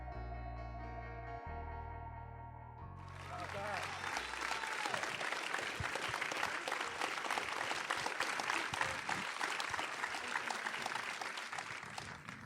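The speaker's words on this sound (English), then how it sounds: "And that applause is so well-deserved" A live audience breaks into sustained, dense applause at a film event after music fades, the clapping steady and loud for about nine seconds.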